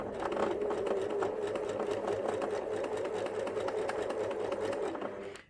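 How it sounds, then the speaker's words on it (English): Sewing machine stitching fabric around a curve, a steady fast rhythmic mechanical whir running without a break for about five seconds, close and moderately quiet, with no talking. "put the presser foot down, and continue to sew"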